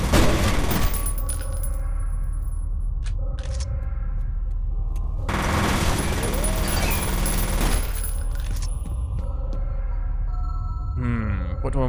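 Gunfire in a dark first-person shooter, F.E.A.R.: First Encounter Assault Recon, where an enemy fires a shotgun in loud, booming bursts mixed with clattering debris and a low rumble.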